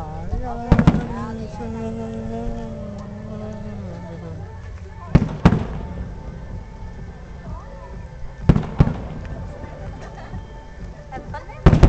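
Fourth of July fireworks in 2012 going off in a few sharp cracking bangs spaced several seconds apart, loud against a steady background with a faint whistling rise at the start.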